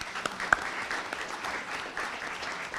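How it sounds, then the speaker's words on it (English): A school board meeting audience gives a short round of applause, moderate clapping with a few sharper individual claps standing out near the start. "Let's give him a round of applause."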